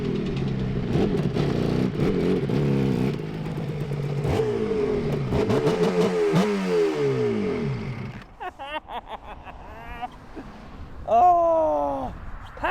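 Suzuki RG500 two-stroke motorcycle ridden on the road, its engine loud and close, revving hard and rising and falling in pitch through gear changes before easing off to lighter blips.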